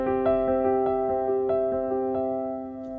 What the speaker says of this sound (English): we can do like a big spread here, and that sounds like this.